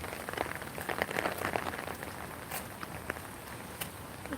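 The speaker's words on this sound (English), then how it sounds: "it keeps on raining for 3 days already" Outdoor rain during a multi-day spell in Korea gives a faint, steady patter, with scattered sharper drops or taps breaking through a soft wash and no voices.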